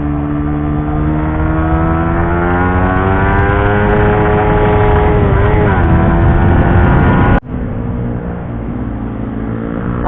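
A 2020 Suzuki GSX-R 150cc motorcycle on a test ride, its engine droning loud and close with a rising, shifting pitch, then a brief cut before the steady hum resumes.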